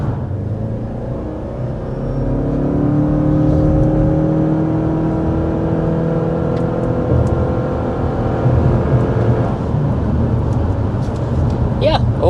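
A 2025 Subaru Forester Hybrid Touring pulls away and accelerates, its engine note rising in a smooth whirring sweep over road rumble, moderately loud, with no talking.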